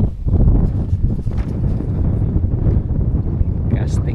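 Strong wind buffets the microphone on open water from a small 12-foot boat in strong waves, a loud, steady roar with low rumbling gusts, while faint voices come through underneath.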